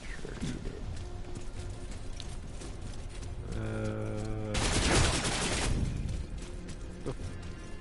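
Gunshots in the video game Wayfinder ring out as a loud, rapid burst of crackling fire over busy game sounds and tonal effects, with a voice talking in the background.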